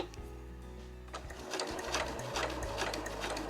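A sewing machine stitching cotton fabric pieces for a small house-shaped key case, a close, steady rapid whirring and clatter that starts after a moment of quiet motor hum and runs continuously.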